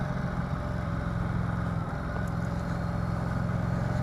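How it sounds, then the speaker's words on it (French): A motorcycle engine drones steadily and loudly while riding on a cold road, with a constant low rumble and wind roar and no clear rise in revs. "Ah, la moto, elle respire bien, elle bondit."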